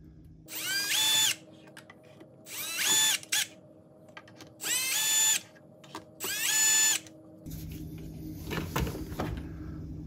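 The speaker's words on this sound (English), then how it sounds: "The next step is to loose the four screws in Yeti link." Four separate bursts of a power drill loosening the four screws on a Goal Zero Yeti Link expansion module, each a whining run of about a second, fairly close, followed by a faint mechanical shuffle.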